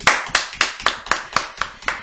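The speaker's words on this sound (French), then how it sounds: "Moi, j'applaudis." A single person claps hands at a steady rhythm, about eight sharp, close claps spaced evenly with clean gaps between them, with no talk over them.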